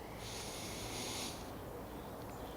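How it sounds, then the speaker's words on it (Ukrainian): Deep breathing at the end of a morning full-body exercise routine: a long, close, airy inhale or exhale swells over about a second, then softer breath noise continues above a steady low background hum. "Тепер в кінці нашої зарядки робимо глибокий вдих."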